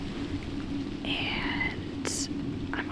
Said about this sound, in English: And I don't know if you can tell, but it is raining.